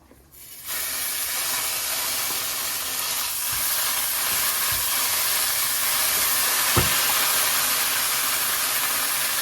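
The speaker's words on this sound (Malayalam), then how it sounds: "തേങ്ങ അരച്ച് വെച്ചിരിക്കുന്നത് അതിലേക്ക് ഒഴിക്കാൻ പോവാണ്." A sudden loud, steady hiss as wet ground-coconut paste meets a hot pan for Kerala-style theeyal, holding constant with a faint clunk partway through.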